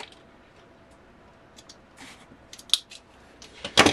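Scissors snip through a thin tin sheet, a few sparse faint cuts building to sharper, louder metallic snips at the end, no voices.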